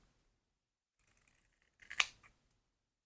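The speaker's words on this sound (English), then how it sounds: "fold it in half, so that way you can cut both the corners at the same time" Scissors snip through folded kinesiology tape to round both corners in one cut, a single crisp close snip after a few faint handling rustles, with no talking.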